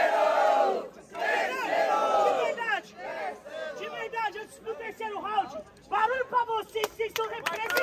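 Rap battle crowd cheering and shouting, a loud burst of massed voices that swells at the start, dips, then surges again in choppy waves near the end.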